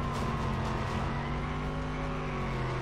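Engine roar and tyre squeal from a car drifting and skidding through a corner in a mobile racing video game, a steady loud whine with sliding tire noise running throughout, no voice over it.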